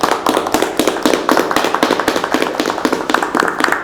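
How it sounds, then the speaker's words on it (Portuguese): Sustained applause for the fire brigade in a podcast studio: dense, steady clapping from several people, loud and close, with no talk. "eu quero dessa vez pedir uma salva de palmas para o Corpo de Bombeiros"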